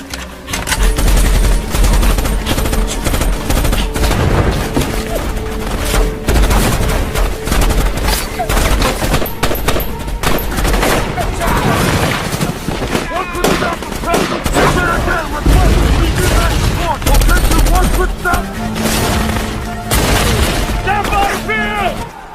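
Heavy gunfire rages through a jungle battle scene in the action film Tears of the Sun, with sustained automatic bursts, rapid rifle shots and occasional booms as rebel forces close in; loud and dense throughout, with voices shouting beneath.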